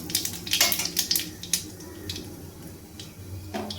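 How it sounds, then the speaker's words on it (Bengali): Half a spoon of black cumin seeds sizzles and crackles in hot oil left over from frying tilapia. The close, steady frying hiss carries bursts of brighter popping near the start and spoon scrapes now and then. "কালো জিরেটাকে একটু ভালোভাবে ভেজে নেব।"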